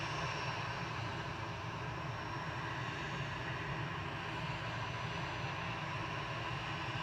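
An airliner on a Bridgetown cruise flight at Manchester Airport, a steady broadband engine roar holding at an even level throughout, moderately distant with no talk.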